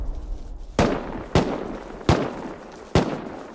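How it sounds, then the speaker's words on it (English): Four loud gunshots crack out at uneven intervals in a survival game base raid, each a sharp close report with a short decaying tail over low background noise, and no voices. "What are you shooting at?"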